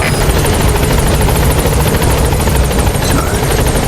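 A support helicopter in Metal Gear Solid 5 hovers close, its rapid rotor thumping and turbine whine loud and continuous, with no voices.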